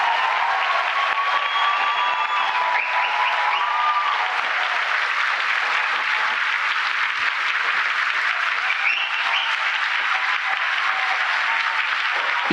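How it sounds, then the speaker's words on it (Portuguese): Sustained applause from a seated audience honouring Brazilian math olympiad students at a presidential ceremony, a steady dense clatter of many hands that stays loud and even throughout with no speech over it. "uma salva de palmas para eles"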